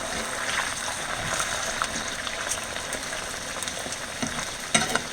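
Potatoes fry in hot oil with a steady, dense sizzle throughout, while occasional scrapes and clinks mark them being stirred; a sharper clatter lands near the end. No one speaks.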